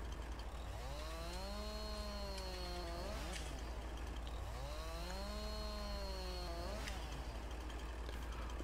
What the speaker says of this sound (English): They won't let me cut them with the chainsaw.